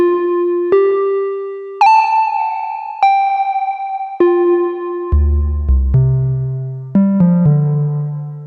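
Guitar notes and chords played one after another through the Meris Mercury X pedal's 78 room reverb, each ringing with a short, natural ambient decay.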